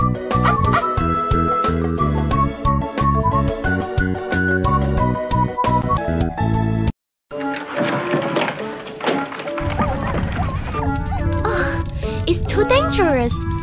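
Cartoonish puppy barks and yips pop out repeatedly over bouncy game music, with a brief silence midway before busier effects and jingles resume.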